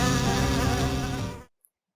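Honey bees from a hive buzzing close and loud, a dense continuous drone that cuts off abruptly after about a second and a half, followed by silence.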